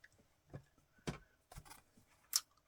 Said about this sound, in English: I'm going to cut that off with some scissors.